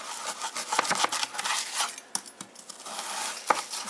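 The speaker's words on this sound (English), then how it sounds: "your knife will go through it very easily, and then you can cut it up into cubes" Knife slicing semi-frozen chicken into cubes on a board, soft scraping and rasping strokes with sharp little taps at irregular intervals, close and fairly quiet, no talking.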